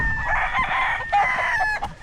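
Chickens cluck and a rooster crows in short bursts nearby at a farm storehouse in Pila, Laguna, with no talk over them.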